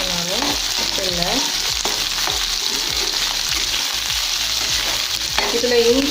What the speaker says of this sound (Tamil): வெங்காயம் கொஞ்சம் வதங்கணும்.